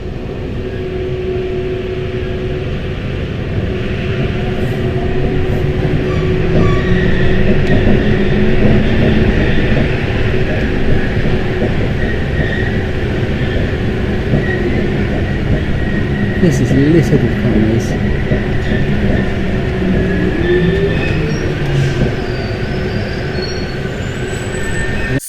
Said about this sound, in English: So then my train now goes forward through the train wash and into the station.